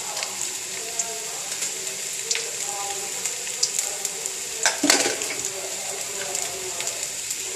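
Mustard seeds and cumin fry in coconut oil as a tempering for buttermilk curry, making a continuous soft hiss and sizzle with scattered pops and one sharper clatter, heard close with faint background voices.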